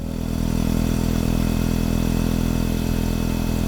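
A motorcycle engine hums steadily and loudly on a ride through the mountains of Oita, Japan, a constant droning tone with no pauses and no voices.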